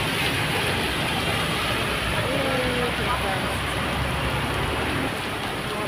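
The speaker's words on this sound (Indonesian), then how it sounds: "Hujan deras, guys." Heavy rain pours steadily in front of a shopping mall, a dense, constant hiss of downpour on pavement with a faint hum beneath it.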